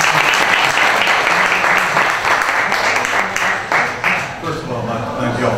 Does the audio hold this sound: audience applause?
yes